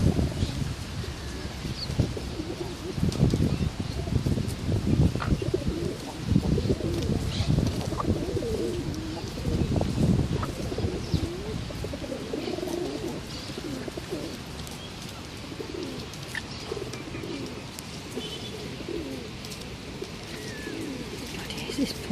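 A pigeon or dove coos repeatedly in low soft phrases, close and fairly loud, over an outdoor background with faint chirps from other birds; a person speaks briefly in places.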